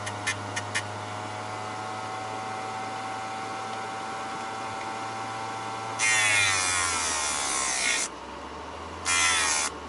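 Small sander driven by a BLDC motor on a cheap driver board, its sandpaper worn: a steady whirring motor hum runs throughout, broken by two loud, raspy sanding bursts near the end.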